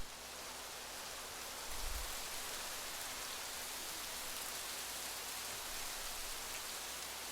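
Steady rainfall in the Rising World video game, a continuous even hiss of drops on surfaces that stays level and moderate throughout with no talking.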